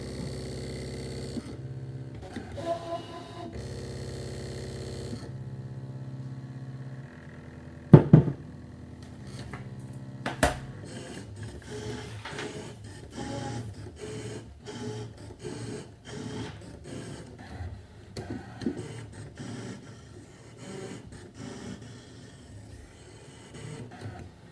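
A Brother ScanNCut SDX2200D cutting machine works through a card, giving a steady motor whir and rhythmic mechanical stepping, with a few sharp clunks and a run of quick ticking as the carriage moves, alone and close.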